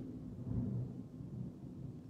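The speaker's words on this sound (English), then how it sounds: "Did you hear that? That was big thunder." Distant thunder gives a faint, low rolling rumble that swells briefly and then fades into a soft, lingering murmur, with no one talking.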